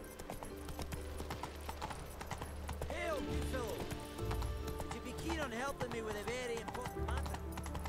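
Horse gallops in The Witcher 3 with a steady, rapid clip-clop of hooves, joined by short snorts or whinnies and background music, while someone talks over it.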